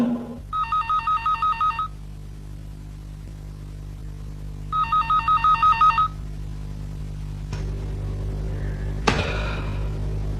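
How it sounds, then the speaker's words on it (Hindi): A phone ringtone trills in two bursts separated by a pause, fairly clear, followed by a couple of soft thumps and faint background noise. "कम ऑन साइमा, उठा लो फोन।"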